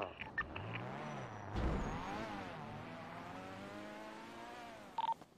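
Loud car engine in a GTA roleplay video game, a red-engine car droning steadily with rising and falling revs, a brief harsh burst near the middle and short clicks near the end.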